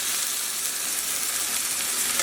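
Chicken pieces laid into a big frying pan hiss in a steady, loud, broadband sizzle that holds evenly throughout, with no talking.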